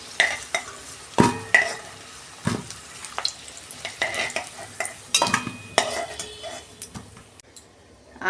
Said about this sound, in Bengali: আলুগুলো আমি লাল লাল করে উল্টে পাল্টে ভেজে নিচ্ছি